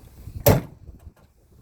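A truck door swings and shuts once in a single sharp, fairly close thud during an outside pre-trip check, followed by quiet shuffling.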